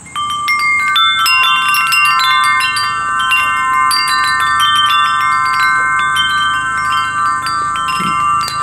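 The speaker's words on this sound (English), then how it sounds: "All these chimes are going to be different sizes" Metal IRILEKI wind chimes of different sizes ringing in overlapping bright tones, struck repeatedly and left to sustain, with a soft rumble of background noise underneath.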